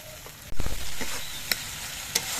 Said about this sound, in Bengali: মশলাগুলো আমি বেশ কিছুক্ষণ কষিয়ে নিয়েছি দেখুন টমেটোগুলো নরম হয়ে কিন্তু গলে গেছে